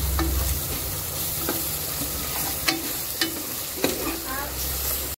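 Ginger garlic paste stirred and fried in a pot for mutton pulusu, giving a steady sizzle with a few sharp scrapes and clicks of the spoon against the pan, close and continuous.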